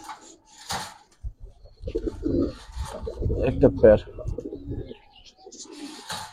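Giribaz pigeons in a loft coo in low soft bursts close by, mixed with a few faint chirps, while someone talks over them.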